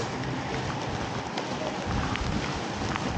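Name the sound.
rain during a bike ride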